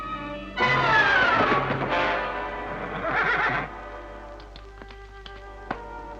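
A horse on a western ranch neighs loudly in a long, wavering whinny, followed by a few light hoof taps and clip-clops as a rider arrives, close and clear with little else around it.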